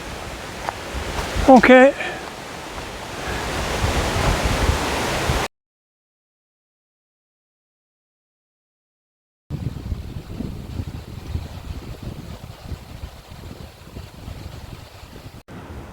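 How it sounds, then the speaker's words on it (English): Outdoor wind buffets the microphone on a 100-mile, four-day solo hike, making a rough, steady rumble. The sound drops to complete silence partway through, then the wind returns more softly. A person speaks briefly near the start. "Can hear that blooming wind picking up again."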